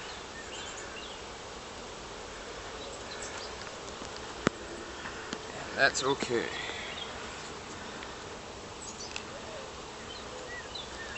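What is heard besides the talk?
honeybees buzzing inside opened hive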